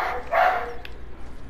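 A single dog bark, short and somewhat muffled, at a middle distance, heard over a low background hum during a home video game session.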